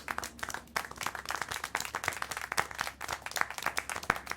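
Steady applause from the video game Syberia: The World Before, many hands clapping in a dense, continuous patter, fairly close and moderately loud, with no voices on top.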